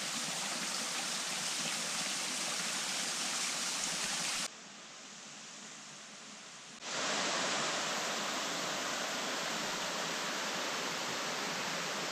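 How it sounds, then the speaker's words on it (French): Waterfall at 25 Fontes on Madeira, a continuous broad roaring rush of falling water, loud and steady, briefly dropping quieter for a couple of seconds before surging back at full strength. "la cascade des 25 fontes ici, dans un site classé"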